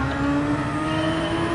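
Honda MP4/4 race car engine in Gran Turismo 7, a loud, steady high-pitched drone held at near-constant revs throughout, close and continuous with no talking.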